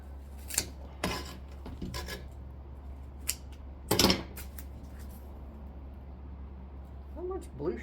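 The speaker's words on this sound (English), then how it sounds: "and I just actually use my scissors because it's going to be easier." Scissors cut flower stems while a bouquet is arranged, with a few scattered close snips and rustles amid handling noise over a low hum.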